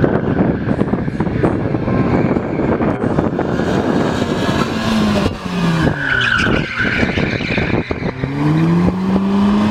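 A large car skids during a speed-maneuvering competition in Mogilev, its hydraulic handbrake locking the rear wheels; loud tyre squeals and rising, falling engine revs repeat across the run, close by.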